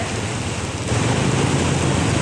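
Heavy rain falls steadily on a flooded street, Chaeng Watthana Soi 14 in Thailand, as a dense, close hiss with a low rumble beneath, growing slightly louder partway through, no voices.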